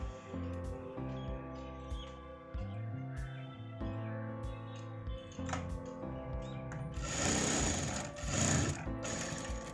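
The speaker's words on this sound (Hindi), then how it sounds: "सिर्फ धागा ऊपर खींच लिया और एक झटके से काट दिया तो इस प्रकार से धागा कट जाता है" Jack F4 industrial sewing machine stitching with a steady mechanical rattle and hum, then a brief burst of sharper, noisier clatter as the thread is pulled up and snapped off with the cutter.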